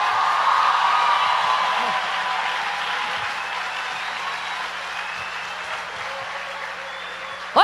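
An audience at a church service claps in a steady, sustained wash of applause that holds at a consistent level throughout, with a sharp sound at the very end.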